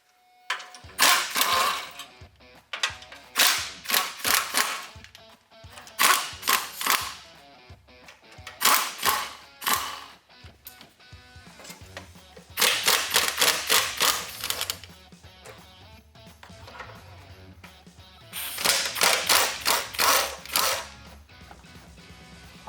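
Bolts on the KDSS lines of a Lexus GX460 are undone with a ratchet, giving repeated bursts of fast, sharp clicking separated by short pauses, close and crisp.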